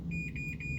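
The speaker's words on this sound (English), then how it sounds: "As soon as I turn off the ignition, you'll hear a series of beeps. That will be arming the child check system." A school bus's child check system arming after the ignition is switched off: a steady high electronic tone with a series of brighter pulsing beeps, close and clear over a low rumbling hum.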